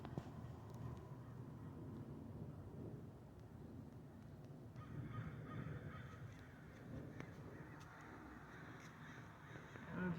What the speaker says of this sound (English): And the birds are squawking loudly.